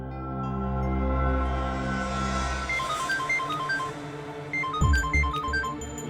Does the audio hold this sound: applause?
no